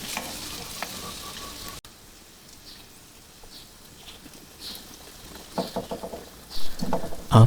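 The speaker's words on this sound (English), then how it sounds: "Keep searing them until they have a nice color" Pork belly pieces sear in a pot with a constant close sizzle and crackle, broken by louder spatters and stirring clatter toward the end, and no one speaks.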